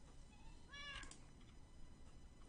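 A cat gives a single short meow, faint against a quiet background hum.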